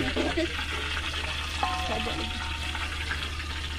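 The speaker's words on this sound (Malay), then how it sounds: "Goreng kerupuk leko." Steady, loud sizzling of crackers frying in hot oil, continuous and close, with faint voices murmuring in the background at an outdoor event.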